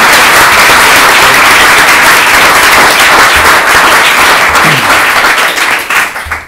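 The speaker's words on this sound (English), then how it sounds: "I'd like to give the panel a round of applause." A loud, full round of applause from an audience for a panel after a debate, sustained and close before thinning out at the end.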